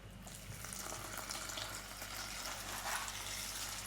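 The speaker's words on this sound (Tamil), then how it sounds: "அவளையும் நல்லபடியாக ஒரு 4-5 தண்ணியில் கழுவி ரெடி பண்ணுவோம்" Steady splashing and swishing of water as flattened rice is rinsed by hand in a vessel, continuous and fairly close.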